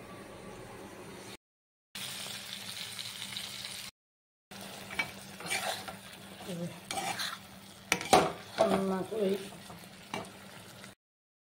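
Teasel gourd and pointed gourd fry in a pan, with light sizzling and a spatula scraping and stirring in uneven bursts, broken by brief pauses of silence.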